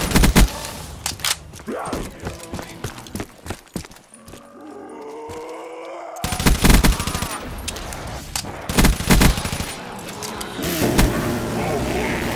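Gunfire in the Call of Duty Black Ops 3 zombies mode on a custom West Trading Company map, with dense bursts of loud shots and impacts that come and go around a quieter stretch, mixed with game effects and some voices.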